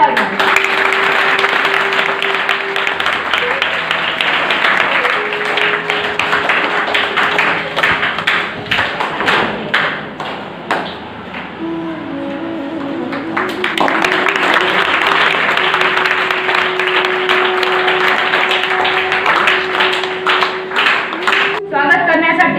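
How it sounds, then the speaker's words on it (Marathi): An audience at a school self-governance day ceremony claps during the lamp-lighting, with a long run of sustained applause, a brief dip in the middle, then more clapping, while tonal music or a voice runs underneath. "तरी सर्वांनी टाळ्या वाजवा"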